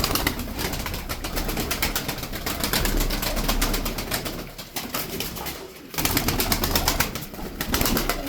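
A flock of Turkish tumbler pigeons coos continuously in a dense, overlapping throaty chorus, fairly loud and close, with a brief dip before the murmuring resumes.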